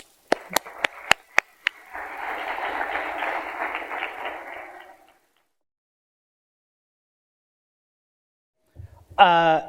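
A conference audience thanks its panelists with a few sharp early claps that swell into a few seconds of steady applause, which fades to silence before a single voice begins speaking.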